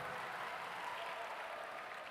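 Audience applause fills a university hall at Universitas Airlangga, a steady, fairly quiet wash of many hands clapping throughout, with no voices standing out.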